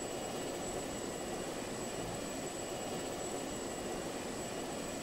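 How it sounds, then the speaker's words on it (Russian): A jet aircraft flies in the video game Just Cause 2, a steady, fairly quiet engine roar and hiss that stays even throughout. "И довольно тихая для реактивного самолета."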